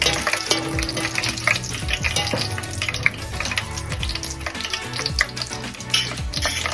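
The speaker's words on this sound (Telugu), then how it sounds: "సో మనమైతే నీట్గా ఫ్రై చేసుకుందాం వీటిని ఫస్ట్." Cloves, cinnamon and bay leaf fry in a pan of oil for veg pulao, a loud continuous crackling sizzle with irregular pops and stirring throughout.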